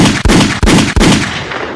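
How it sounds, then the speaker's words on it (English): Gunshot sound effect played on a podcast, three loud booming shots in quick succession followed by a fading rumbling tail. "Hit my gunshot."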